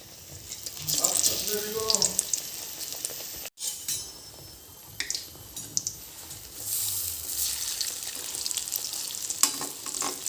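Ash gourd leaf fritters fry in oil with a close, crackling sizzle that swells and fades, along with a sharp clink and a brief voice early on.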